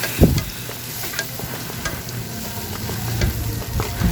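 Onion, garlic and ginger sauté in butter in a pan for mussels, a steady sizzle broken by a few sharp scrapes and clinks of stirring, close and moderately loud with no voices.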